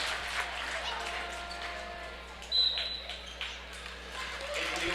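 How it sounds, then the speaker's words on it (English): Applause breaks out from the crowd at a girls' high school sectional semi-final basketball game in a gym. The clapping is steady and moderate, with speech running over it throughout. "get Olivia Cooper a good, well-deserved round of applause for that senior"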